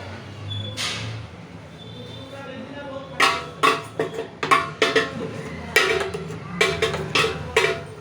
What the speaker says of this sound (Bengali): সুজি দিয়ে আর একটু এটাকে ভালো করে একটু এদিক সেদিক নাড়িয়ে নিব